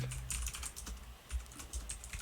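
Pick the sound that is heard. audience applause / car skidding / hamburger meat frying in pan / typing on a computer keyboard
typing on a computer keyboard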